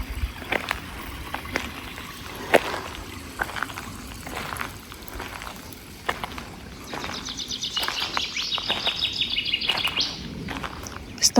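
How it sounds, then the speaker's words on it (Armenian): Birds chirp and sing in a park beside a flowing stream, with a steady soft water wash underneath and a dense burst of high, rapid bird trills toward the end. "Արվակի ձայնը, թռչունների ձայնը"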